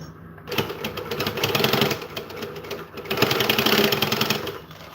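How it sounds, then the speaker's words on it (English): A sewing machine stitches a side seam in two steady bursts of rapid, close mechanical chatter, with a brief pause in between. "Now that side seam can be a bit tricky for other sewing machines. This machine loves it though, literally."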